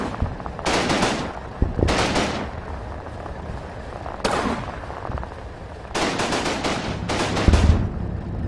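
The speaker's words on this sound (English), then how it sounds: "there's still some machine gun fire coming from maybe over there" Machine gun fire in the Combat Mission World War II strategy game comes as several separate loud bursts of rapid shots. Each burst is spaced by a few seconds, with heavier rumbling fire underneath.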